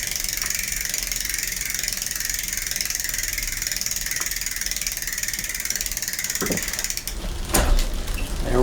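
Derailleur on an old bicycle being worked through a shift, heard as a steady whirring drivetrain with a few clicks and a sharper clunk of the mechanism near the end, close and continuous.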